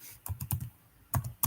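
Python code typed on a computer keyboard: a quick burst of four or five crisp key clicks, a short pause, then a couple more taps, close and with no talk.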